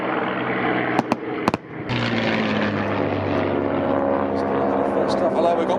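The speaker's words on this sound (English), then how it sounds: "The grand finale each day was a spectacular mock battle over the airfield, with most of the World War II fighters taking part." World War II fighter aircraft fly over the airfield in a mock battle at the Warbirds Over Wanaka airshow, a loud, steady drone of piston engines that swells after a few sharp pops, with a commentator talking over it.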